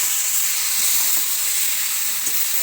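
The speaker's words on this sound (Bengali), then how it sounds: "তারপর হলুদ গুঁড়ো দিয়ে একটু ভেজে নিচ্ছি।" Ginger-garlic paste and turmeric powder sizzle steadily in a hot pan for a brinjal and potato dish, a dense, even frying hiss that sounds close and continuous with no voices.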